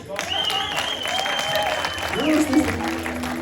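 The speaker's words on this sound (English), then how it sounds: "at this point, most decent people tend to applaud" Steady applause from a magic show audience fills the room at a continuous, moderate level, with some whistling or tonal sounds over it and a slight swell near the end.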